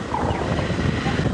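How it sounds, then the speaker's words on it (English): Wind on a sunset safari drive rumbles and buffets against the microphone in a continuous low roar, fairly loud, with no voices. "It is quite windy"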